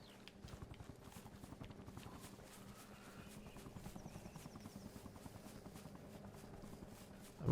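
A hovering helicopter in a war video game, its steady rotor chop droning on throughout beneath a busy backdrop of rhythmic thuds and scattered battle noise.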